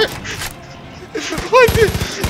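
Rapid gunfire in the video game Far Cry 5 as a cougar is shot, a burst of quick repeated shots under excited shouting voices.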